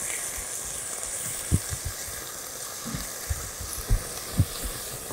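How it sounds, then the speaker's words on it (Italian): Squid hitting a hot pan that still holds caramel from toasting fish, producing a continuous close hiss with a few sharp pops and crackles scattered through it. "Sempre nella pentola dove abbiamo tostato il pesce, con ancora il caramello, mettiamo le seppie."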